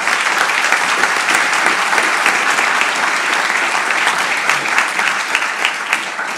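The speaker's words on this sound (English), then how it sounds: "Let's give him a round of applause." Sustained audience applause fills a public forum at an art museum, a dense steady wash of many hands clapping that stays loud throughout and fades slightly toward the end.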